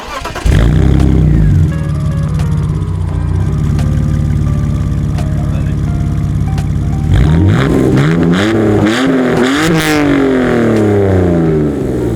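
A BMW E46 coupe engine starts and idles with a loud, raspy rumble, then revs up several times in rising, falling bursts, close by.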